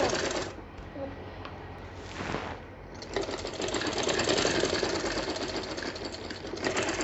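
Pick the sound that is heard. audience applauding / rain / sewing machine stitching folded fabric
sewing machine stitching folded fabric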